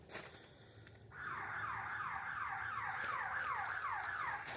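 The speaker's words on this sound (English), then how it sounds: "All the sirens constantly going off." Sirens go off outdoors near a museum in Bard, California, entering after a quiet second as a steady, repeating wail that rises and falls in quick, even cycles, moderately distant and alone with no talk.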